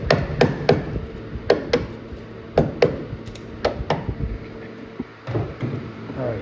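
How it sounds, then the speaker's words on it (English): A screwdriver taps a roof panel into place on an Oldsmobile Vista Cruiser: about a dozen sharp, close metallic knocks in irregular bursts, some in quick pairs, with short pauses between. "now I'm going to take my screwdriver here and kind of tap this in a little bit"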